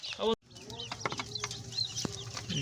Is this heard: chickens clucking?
yes